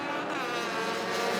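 Race cars at a Southern National UCAR Thanksgiving Classic roar through the gears together, a steady layered engine drone holding loud and close for a brief moment.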